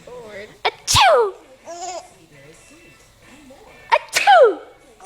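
An adult voice imitates a sneeze twice, each fake achoo followed by a baby's bright giggling and babble, close and loud, with soft adult chatter between.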